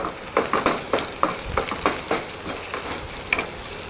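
Crackling sizzle of cumin, mustard seeds, curry leaves and garlic frying in hot oil, with sharp pops and spatters bursting out irregularly every fraction of a second, close and fairly loud.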